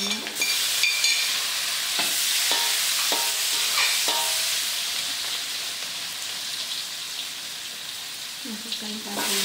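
Tomatoes drop into a hot pan, with green chili and salted fish also in the dish, and fry with a loud, continuous close-up sizzle, a few spatters and clinks early on, that eases slightly over time.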